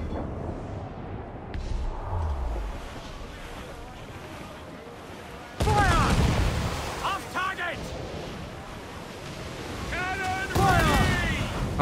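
Ship cannon fire in Assassin's Creed Black Flag, heavy booming blasts erupting in loud bursts over wind and ocean wash aboard a sailing ship, with a person talking between the shots.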